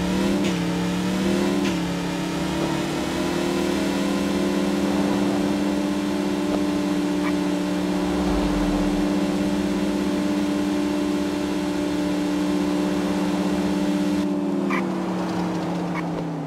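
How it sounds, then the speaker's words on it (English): A race car engine in the video game True Crime: New York City revs hard and holds a loud, steady droning whine throughout, with pitch shifts at the start and a brief drop near the end. "your car burns the road like Chantico"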